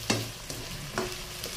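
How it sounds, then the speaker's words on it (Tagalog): Potatoes frying in a pan give a faint sizzle, punctuated by a few sharp clinks and scrapes of stirring. "So ginisa ko lang muna itong fry ko itong potato."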